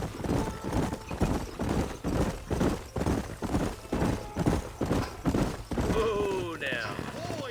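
Horses' hooves clip-clop steadily across a canyon trail in a Western video game, a loud rhythmic plodding of several mounts with a horse whinnying near the end.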